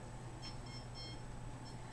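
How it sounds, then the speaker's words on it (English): A meter alarm beeps, a steady electronic tone with faint pulsing, set off by a leg while microwave power is turned up; quiet, with no talk. "The leg is setting off the alarm."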